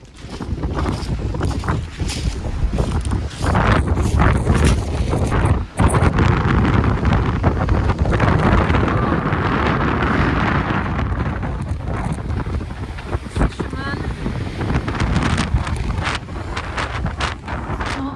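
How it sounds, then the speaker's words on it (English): Strong wind buffeting the microphone on a small pier by the water, a loud continuous roar with gusty rumble and rushing, heard alone without speech. "The wind was really pushing against us."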